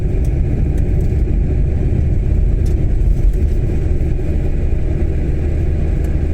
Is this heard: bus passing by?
yes